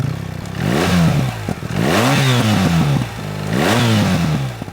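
BMW GS 1300 adventure motorcycle with its redesigned boxer engine, revved three times in close succession, each blip rising and falling in pitch through a loud, throaty exhaust note, heard up close with no talk.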